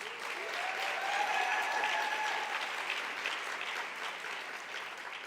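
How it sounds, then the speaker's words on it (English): An audience at a professional summit applauds a new title sponsor, steady, close clapping that builds briefly and then holds, with faint voices or cheers mixed in near the start. "Give them a round of applause"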